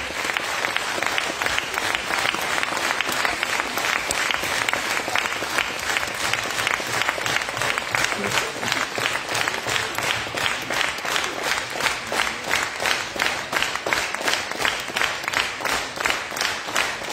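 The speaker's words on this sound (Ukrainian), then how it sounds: "Ці оплески для них!" A crowd at an outdoor charity concert supporting Ukraine's armed forces claps in a long, sustained round of applause, steady and fairly loud, with a pulsing rhythm toward the end and no talk over it.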